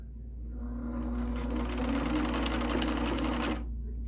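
An Elna Supermatic sewing machine runs steadily while stitching a decorative design, a close mechanical whir with a rapid needle rhythm that starts and stops within a few seconds.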